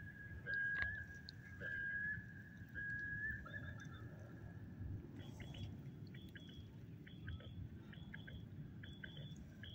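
Three short, thin whistle calls from a Reyoka quail-call whistle used to bring down migrating quail, evenly spaced, followed by faint chirping birds over a soft outdoor background.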